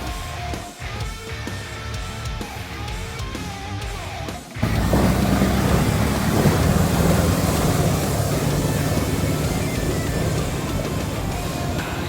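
A 4x4 pushes through a shallow creek crossing on the remote Bloomfield Track, the quiet engine suddenly giving way to a loud, steady rush of splashing water that continues to the end.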